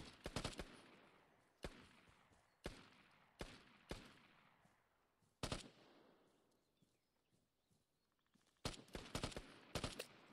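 Gunfire in the video game Vigor: separate loud shots and short bursts echo at irregular intervals, then a faster volley at the end.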